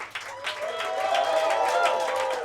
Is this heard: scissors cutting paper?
no